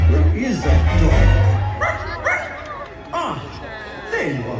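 At a Disney Halloween party show, a ghost dog barks and yips in short bursts and whimpers over a crowd's murmur, with a voice calling out between the barks.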